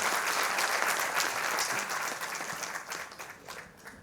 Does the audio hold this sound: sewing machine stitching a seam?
no